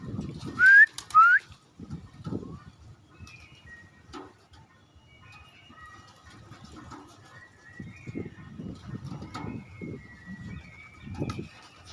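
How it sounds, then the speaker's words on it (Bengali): Pigeons at a pigeon farm give soft, intermittent coos and short calls, with a couple of sharper whistle-like bursts near the start and quieter bird sounds scattered throughout. "আমার সামনে যে কবুতরটা দেখতেছেন, দেখেন ঘাড় ঘুরতেছে। দেখেন এই কবুতরটা অসুস্থ।"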